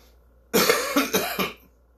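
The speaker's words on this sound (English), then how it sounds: "that's just a weed cough" A sudden fit of three or four raspy coughs close to the microphone, loud against a quiet background, then silence.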